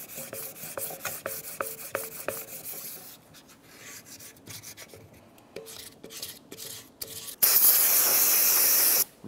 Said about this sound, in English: Make sure this is nice and smooth using our flat sanding block.